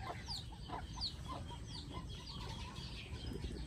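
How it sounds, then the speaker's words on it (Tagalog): Chickens cluck on a small farm with a piggery and ducks nearby, soft scattered clucks and short calls coming at irregular intervals over a low background rumble, fairly quiet and without talk. "meron pa rin tayong mga manok"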